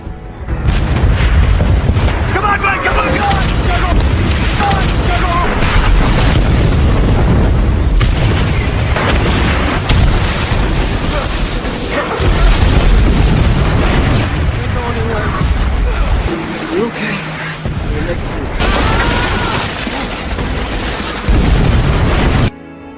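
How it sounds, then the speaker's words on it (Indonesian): Bombs exploding during a night air raid by Japanese forces in the Pacific war, a dense, continuous roar of heavy booms and blasts that stays loud for most of the stretch with only brief dips. "pada tengah malam kawasan mereka dihujani bom oleh"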